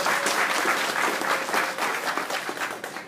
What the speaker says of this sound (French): Je vous applaudis.